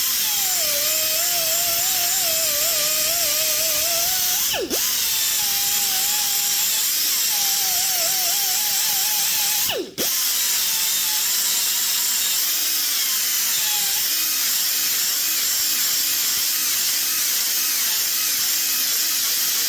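A power tool spinning a Scotch-Brite roll-lock disc against a metal weld gives a steady, loud abrasive whirring with a wavering pitch, pausing briefly twice.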